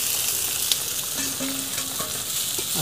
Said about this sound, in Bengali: আর পটল ভাজা চিংড়িগুলোকে ভালো করে মিশালে এখন কষবে।